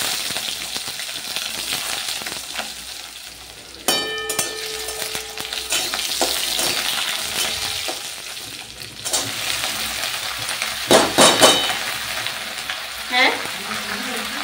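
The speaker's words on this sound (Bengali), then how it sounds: "কড়াইয়ের মধ্যে সর্ষের তেলের ওপর দেখো গোটা সর্ষে ফোড়ন দিলাম আর দুটো শুকনো লঙ্কা" Whole mustard seeds and two dried chillies spit and crackle in hot mustard oil in a kadai. The sizzling is busy and close, with sharp pops, stirring clatter and scrapes throughout, and a brief word is spoken once.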